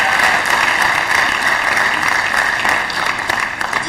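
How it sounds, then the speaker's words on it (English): Sustained applause from a large audience at a University of Benin matriculation ceremony, dense steady clapping throughout with no talk, filling a big hall. "applause"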